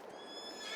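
A horse in Farming Simulator 22 whinnies, a short, faint, high-pitched call lasting under a second with no talk over it.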